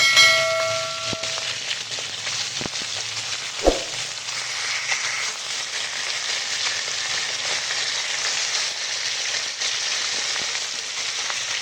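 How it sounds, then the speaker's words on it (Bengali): Oil sizzles and crackles steadily as fish fries, a continuous close hiss with a brief clunk early on. "এখন মাছ ভাজছি জানো তো"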